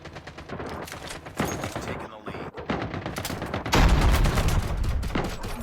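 Bursts of M16 assault rifle fire from the mobile shooter CoD: Mobile crackle in clustered volleys, growing louder and denser toward the end, with a voice talking over parts of it.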